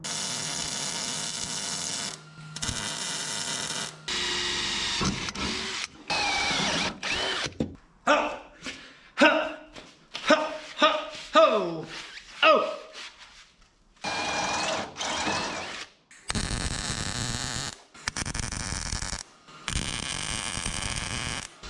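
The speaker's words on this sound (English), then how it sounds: "I'm gonna weld it." Welding a fender mount tab on a 1967 Toyota Stout: loud, close crackling buzz in bursts of two to three seconds, broken up midway by shorter stuttering tacks, with gaps of silence between welds.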